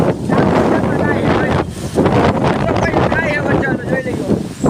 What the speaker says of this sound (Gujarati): ચાલુ થઈ ગયો છે, જો પવન ને વરસાદ બધું વાવાઝોડું છે.